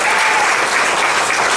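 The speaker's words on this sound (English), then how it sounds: "Keep clapping, I like that" An audience at a candidates' night event applauds steadily, a dense, loud wash of many hands clapping at once that holds without a break.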